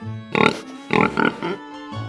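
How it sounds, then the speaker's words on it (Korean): A baby pig oinks in short grunting bursts, two or three loud, close snorts with brief pauses between them. "토실토실 아기 돼지 밥 달라고 꿀꿀꿀"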